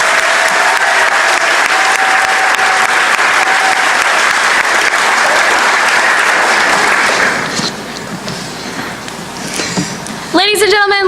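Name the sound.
applause for FFA State Star winners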